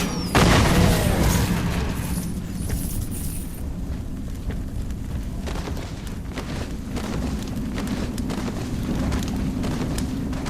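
Bomb exploding in Sacred 3, a loud deep boom at the start followed by a long rumbling tail scattered with crackling debris that slowly fades.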